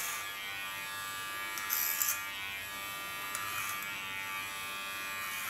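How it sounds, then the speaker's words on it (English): A Keone hair clipper buzzes steadily close by while cutting hair, a constant high electric whine with a few brief scratchy bursts as it moves through the hair. "Got my wonderful Keone clipper."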